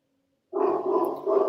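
A neighbour's dog barking indoors, starting abruptly after a brief silence, a close, loud burst that continues to the end.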